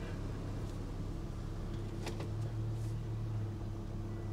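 A T-5 vehicle's engine idles slowly, a faint, steady low hum with a constant tonal drone and a brief clattery tick partway through, no talking.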